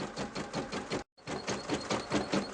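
An embroidery machine stitches a colour stop through fabric and batting held in a hoop, a close, rapid rhythmic needle clatter with pulsing beats, briefly cutting out for a moment before resuming.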